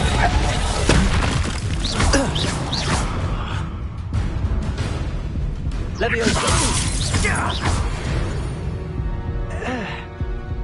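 Confringo and Expulso spell blasts ring out in Hogwarts Legacy, loud repeated bursts and crashes with whooshes and shattering debris, while a voice calls out over the effects.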